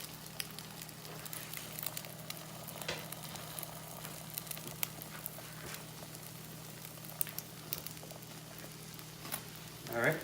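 Whisked eggs setting in a hot pan for a breakfast burrito, a soft, quiet sizzle with faint crackles and a low steady hum throughout, ending with a slightly louder clatter.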